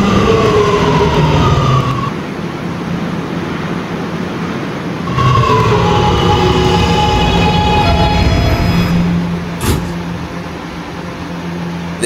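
An R211A R subway train in a Roblox game rolls along on a rerouted run, a steady loud rumble with whining motor tones rising and falling and a brief sharp burst near the end, no talking.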